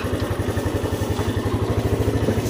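A motorcycle engine runs close by with a fast, even, throbbing pulse and steady loud rumble throughout, no voices heard.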